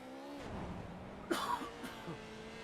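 A single short cough sounds over a low engine drone from an iRacing race, with a fainter catch of breath shortly after.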